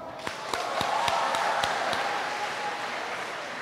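An audience at a morning religious talk breaks into clapping, a scattered spread of sharp hand claps over a continuous wash of crowd applause lasting several seconds, with no speech over it.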